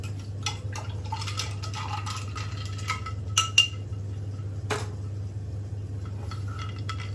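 A spoon clinks and scrapes against glass in short irregular bursts while stirring a gin cocktail, over a low steady hum, with a couple of sharper taps.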